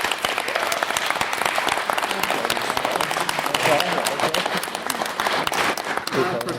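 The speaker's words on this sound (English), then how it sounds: "Ben, Owen, Andrew and Barry, could we give them a round of applause?" Sustained, dense applause from a debate audience, loud and continuous throughout, acknowledging the speakers for the proposition in a formal debating chamber.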